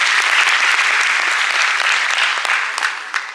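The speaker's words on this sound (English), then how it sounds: "Big applause." An audience gives a warm welcome with loud, crisp clapping from many hands, strongest at the start and gradually thinning out toward the end, with a few last scattered claps.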